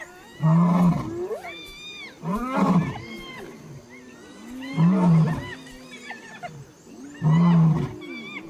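A lion near hyenas at a carcass on the African savanna gives four loud, deep roaring growls at regular intervals, close by, with softer whining and yelping calls between them.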